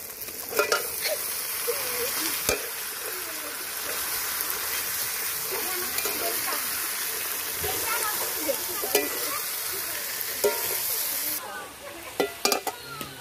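Chicken meat goes into a hot pan and fries with a steady, loud sizzle, while spatula scrapes and clinks come up close at intervals, in a village kitchen with no talking.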